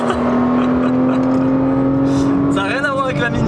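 Naturally aspirated flat-six of a Porsche Cayman revving hard as the car accelerates, a loud rising engine tone from inside the cabin with voices talking over it near the end.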